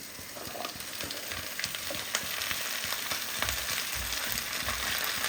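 Malabar spinach (pui shak) frying in a pan, a steady close sizzle with small crackles and pops running throughout, no voices.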